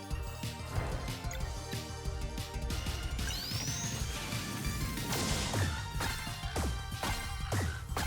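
In the Sea of Stars video game, a boomerang strikes and smashes locks with repeated crashing thwacks over a continuous layer of game music and effects.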